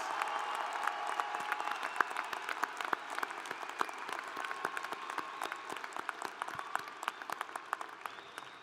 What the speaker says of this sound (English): let's give a big round of applause for these 2019 graduates